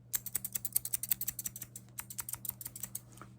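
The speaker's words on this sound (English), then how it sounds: "Now, I am going to use these thinning scissors" Thinning scissors snip hair in a close-miked ASMR haircut roleplay, a quick run of crisp, quiet clicks in an irregular rhythm with a short pause partway through.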